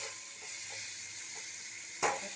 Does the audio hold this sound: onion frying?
yes